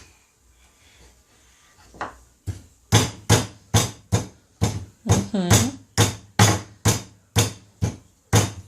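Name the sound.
meat mallet pounding cutlets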